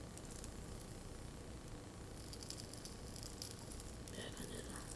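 Bacon sizzles steadily in a waffle iron, a continuous crackling hiss of grease that holds at an even level throughout, with no voices.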